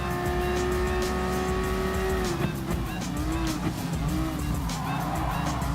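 A race car roars through a corner in Gran Turismo Sport, chasing an Audi R18, with a falling engine whine and tires squealing in repeated wavering chirps, loud and continuous.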